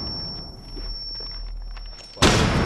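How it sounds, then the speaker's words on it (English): Flashbang grenade in a competitive video game match, with soft thumps and footsteps leading into a sudden loud hissing blast that carries on to the end. "Tossing flashbang!"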